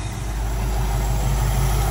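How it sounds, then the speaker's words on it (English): A warmed-up carbureted engine idles steadily nearby with the choke open, a constant low rumble with an even pulse and no voices. "It's idling."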